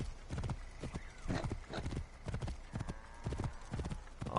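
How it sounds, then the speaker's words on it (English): Horse hooves clip-clop steadily in the Assassin's Creed Origins game, the Curse of the Pharaohs afterlife setting, with a brief whinny near the end. The beats are fairly close but soft and repeat in a regular walking rhythm. "Look at that horse."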